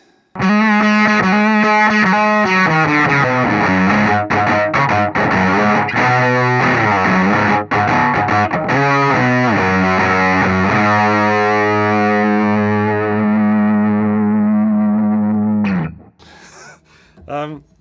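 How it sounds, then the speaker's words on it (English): Electric guitar, a Squier Supersonic through a Boss FZ2 fuzz pedal, a loud buzzy riff of sustained notes and chords that ends on a held note fading out. "Fuzz, courtesy of the Boss FZ2 and this Squire Supersonic."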